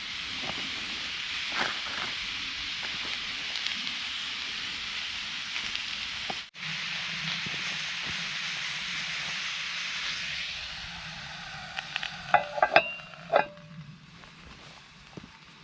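Food cooking outdoors in a 5-way Bushcraft cast iron cooker over a wood fire gives a steady, close hiss and sizzle that fades slightly later, followed by a few light metallic knocks near the end.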